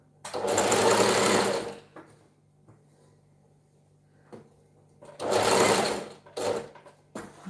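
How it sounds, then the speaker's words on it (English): A sewing machine runs in two loud bursts for back stitching on fabric, with quiet pauses and small handling clicks between them, close up and with no speech. "Go ahead and back stitch here."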